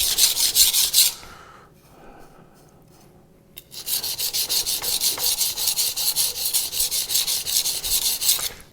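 A kitchen knife grinds on a coarse 200-grit whetstone in fast, even back-and-forth strokes, a loud, close, gritty rasp that pauses briefly before resuming its steady rhythm.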